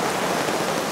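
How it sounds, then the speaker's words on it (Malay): Heavy rain drums steadily on a camping tent on a mountain hike, a dense, continuous patter close overhead with no break and no voices. "Tapi hujan lebat."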